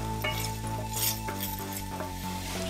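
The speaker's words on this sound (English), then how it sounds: "First step, sweat off your aromatics." Aromatics sweat in a pan as an early step in making pork blood dinuguan. A soft, steady sizzle runs under occasional clinks and scrapes of a utensil against the pan, with a faint hum throughout and no voices.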